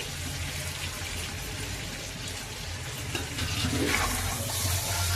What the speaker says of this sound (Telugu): ఇది చూడండి, చికెన్ వేగుతుంది